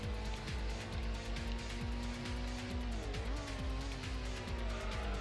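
A grippy racing car in Gran Turismo, engine note climbing in repeated gear-shift sweeps with a brief dip mid-run, steady and sustained throughout.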